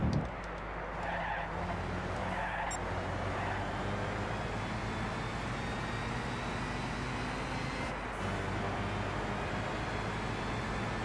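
A KTM race car in the video game Gran Turismo 6 drones steadily with a loud, continuous engine note and tyre skid noise, sustained throughout with no pauses.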